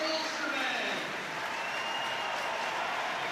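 A rugby crowd at an Ulster versus Leinster match applauds a departing midfielder, a broad continuous roar of clapping and cheering heard at a distance beneath a commentator's voice.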